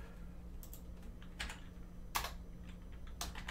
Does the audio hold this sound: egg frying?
no